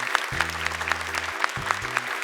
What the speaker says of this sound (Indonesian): Boleh tepuk tangan untuk ke-8 peserta kita hari ini.